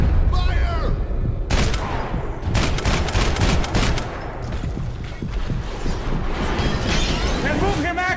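Gunfire from a Max Payne 3 firefight: dense volleys of rapid shots and booming blasts go on almost without pause, and shouted voices cut in at the start and end.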